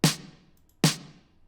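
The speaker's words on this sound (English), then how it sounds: "The snare in the song has this really cool crystalline reverb," Two sharp snare drum hits from an 80s pop song, each drenched in a bright, crystalline reverb tail that decays quickly, isolated and moderately quiet.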